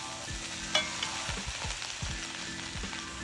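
Cabbage frying in a pan gives a soft, continuous sizzle, while a spoon scrapes through it in several short, evenly spaced stirring strokes close by.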